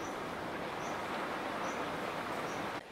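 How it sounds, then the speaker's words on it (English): Steady rain falling outside during a storm on a misty morning, a dense, even hiss that fills the whole stretch at fairly low level, with faint distant tones in the background and no voices. "I do apologise for the rain noise in the background"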